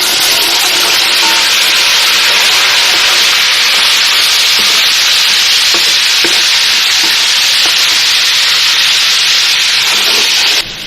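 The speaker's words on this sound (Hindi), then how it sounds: "अब ये साबुत में गरम मसाले डालूँगी। थोड़े से मसाले की खुशबू आने लगेगी" Whole garam masala spices sizzle steadily in hot oil in a home kitchen pot while nalli pulao is being made, a loud, continuous frying hiss with a few faint stirring clicks and no talking.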